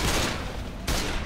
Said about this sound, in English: Stop shooting me!